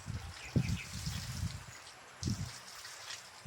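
Water trickles and splashes from a hand water pump, a faint, uneven flow with a couple of brief louder gushes.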